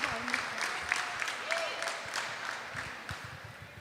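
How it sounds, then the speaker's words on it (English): Scattered applause from a school audience at a grade 3 academic bowl, welcoming the mathematics participants; fairly faint, uneven clapping with a few voices mixed in. "Round of applause for our mathematics participants."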